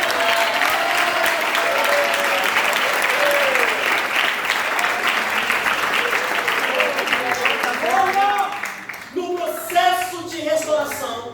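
A church congregation claps during a worship service, dense and sustained throughout, with voices calling out and singing tones rising over the clapping toward the end.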